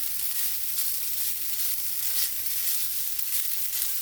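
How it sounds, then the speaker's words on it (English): Chow mein noodles sizzle and crackle in hot oil, a loud, steady frying hiss with faint rhythmic swells as they are stirred. "So now we're just gonna start stir frying this up."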